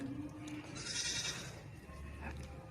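A dairy goat gives a single drawn-out bleat at close range over faint background noise.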